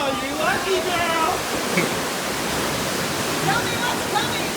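Water streams pouring and splashing onto riders on the Kali River Rapids raft ride at Animal Kingdom in Florida, a dense continuous rushing hiss under excited voices of people talking and calling out.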